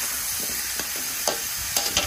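Pumpkin pieces stir-fried in a hot pan for a vegetarian dish, giving a steady sizzle with several sharp scraping stirs of the utensil, close up and without talk.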